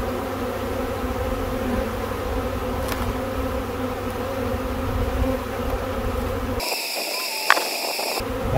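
A swarm of honeybees clusters on an apple tree, giving a thick continuous buzz that fills the air, with a brief change in tone near the end and a sharp knock.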